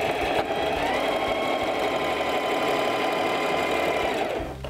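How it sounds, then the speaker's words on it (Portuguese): A sewing machine running a continuous straight stitch, a steady loud mechanical hum and whir holding evenly throughout before easing off at the very end. "Primeiro agora eu vou passar a costura reta, depois que eu venho com o acabamento"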